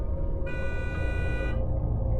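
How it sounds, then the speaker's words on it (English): A car horn blares in one sustained honk of about a second over a steady road rumble, heard from inside a vehicle driving at night. "this time laying on the horn"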